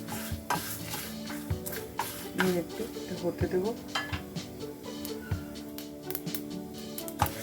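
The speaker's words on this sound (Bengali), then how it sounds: "দেখুন পটপট করে আওয়াজ হচ্ছে এটার ভাজার।" Spices and bay leaves roasting dry in a hot pan over a high flame, giving small scattered crackles and pops with some stirring clatter, heard under a woman's speech.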